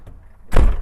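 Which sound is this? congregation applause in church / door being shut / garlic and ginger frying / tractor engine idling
door being shut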